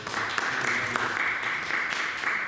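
Dense, continuous audience applause at an academic colloquium on chance, probability and stochastic processes, a steady wash of many hands clapping at moderate distance with no pauses.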